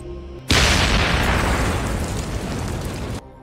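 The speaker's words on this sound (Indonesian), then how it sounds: "Para petinggi ISIS itu termasuk Nasir bergegas mendekati sumber ledakan yang diketahui berasal dari rumahnya si Ali" A house blows up in a film: a loud, close explosion bursts in suddenly and roars as a dense, rumbling blast for about three seconds before cutting off abruptly.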